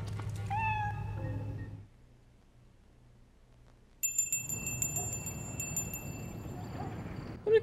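A cat meows several times in quick succession within a video game, loud and close, followed by a quiet pause, then bright chiming bell-like tones over a busy background.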